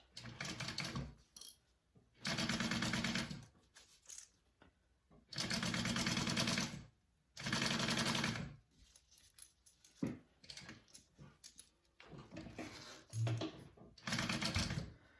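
A sewing machine bastes a bag seam for a Magdalena Circle Bag in several fast, steady bursts of needle chatter, each lasting a second or two, broken by pauses and light handling noise.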